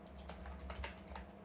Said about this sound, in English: You guys shouldn't hear the keyboards anymore.